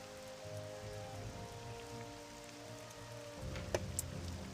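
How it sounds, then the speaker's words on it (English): Faint rainfall in the Morrowind game, a constant gentle patter and hiss over a low rumble, with a brief sharper tick near the end and no talking. "I love the rain. Honestly, rain sound, rain frequency, the weather in this adds so much."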